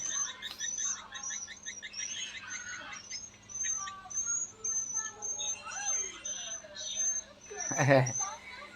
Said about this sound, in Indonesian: boleh disimak original asli ya, suara walet bukan tiruan ya.